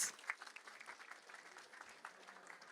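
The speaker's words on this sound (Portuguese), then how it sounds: "Gente, palmas para os nossos" An audience at a professional communication talk claps for volunteers, a brief burst of dense, even applause heard at a distance and fairly faint throughout.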